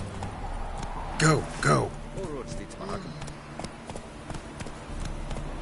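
Roach, a horse in The Witcher 3, clops along in a steady hoof rhythm while a voice urges it on, with two loud vocal bursts early and quieter hoofbeats continuing afterward.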